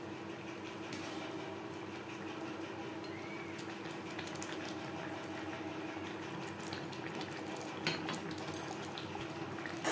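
Pabda fish simmering in a vegetable curry gravy, a steady bubbling and liquid hiss that runs evenly throughout at moderate loudness, with no talking.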